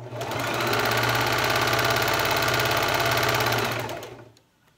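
A sewing machine runs a steady top stitch along the edge of a handmade travel blanket, its rapid needle hum continuous and close for about four seconds before stopping.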